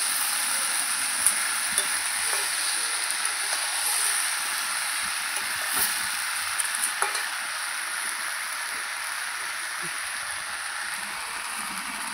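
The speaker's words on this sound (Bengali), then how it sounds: "এখন একটু নাড়াচাড়া করবো" Bottle gourd with fish head, sweetened with a little sugar, fries in a pan with a continuous steady sizzle and occasional light clicks from stirring, with no talking.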